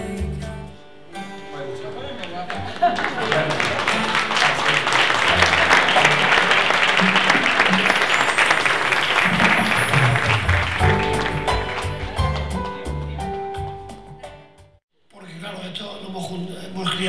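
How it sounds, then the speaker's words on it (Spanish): Sustained audience applause fills the hall at a gala honouring businesswomen and working women for International Women's Day, swelling steadily for about ten seconds before fading out and giving way to quieter room sound. "Un fuerte aplauso"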